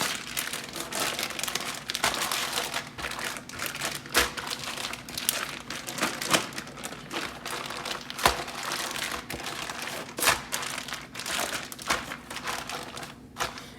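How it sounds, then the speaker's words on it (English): A plastic bag crinkles and rustles while it is filled with marinade and chicken and the air is pressed out. The crackling is close and continuous, with bursts of louder crumpling and no voices. "We're gonna fill up our bag and try to get as much of the air out as possible"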